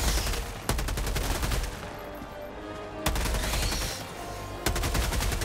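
Rapid automatic gunfire from blind firing in Helldivers 2, sustained loud bursts of close shots broken by brief pauses.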